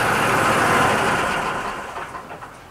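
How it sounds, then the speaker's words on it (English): A hot water trailer jetter's engine runs loudly at first, then winds down and fades as it is throttled back, leaving a lower rough idle. "Throttle down the jetter if you're by it."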